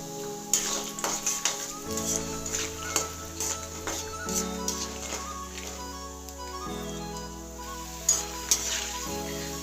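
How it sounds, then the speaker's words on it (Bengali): Peanuts sizzle and crackle in hot white oil in a wok, a steady frying hiss with occasional sharp stirring clinks, heard under soft background music. "সাদা তেল দেওয়ার পর তেলটা গরম হলে তাতে প্রথমে বাদামটা ভেজে তুলে নেব।"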